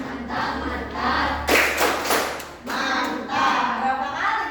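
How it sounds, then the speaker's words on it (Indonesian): A group at a teacher training session claps out a rhythmic 'tepuk mantap' cheer in short bursts, with voices chanting along in a lively room. "Coba tepuk mantap untuk kita semua."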